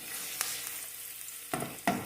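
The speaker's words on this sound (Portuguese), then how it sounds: "Vou refogar o alho com a cebola" Garlic and onion sauté in a pan with a close, continuous hiss, broken by a few brief scraping stirs of a utensil, including two sharper strokes near the end, with no voices.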